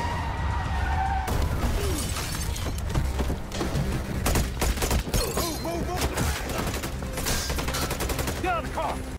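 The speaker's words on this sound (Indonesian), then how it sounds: "hingga terjadilah baku tembak di antara mereka" A film shootout between police and criminals ambushing a convoy, with rapid bursts of gunfire, shattering glass and skidding tires, loud and chaotic over dramatic background sound.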